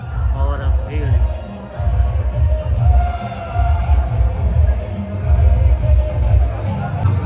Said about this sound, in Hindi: दोस्तों आज का माहौल आप लोग चेक करिए, चारों तरफ श्रद्धालु और भीड़।